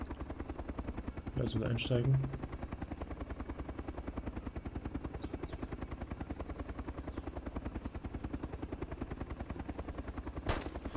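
A DayZ Epoch helicopter's rotor thumps in a steady, rapid rhythm throughout, with a brief burst of gunfire and a short spoken line near the start.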